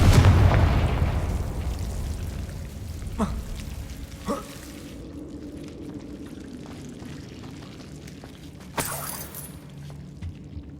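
Confringo explosion spell cast in the video game Hogwarts Legacy, a loud blast at the start that decays into a low rumble, followed by a few sharp cracks and a later burst against a quiet ambient background.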